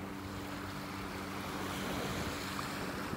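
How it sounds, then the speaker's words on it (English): Small waves lapping on a calm beach shore in North Naples, Florida on a morning walk, a soft continuous wash with a light breezy hiss, faint and steady, with no voices. "listening to the little waves lapping on the shore here"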